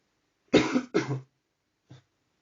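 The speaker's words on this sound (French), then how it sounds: "Une nouvelle fois, je l'ai entendu tousser." Two harsh coughs in quick succession, close and loud, followed after a pause by a brief, fainter third cough.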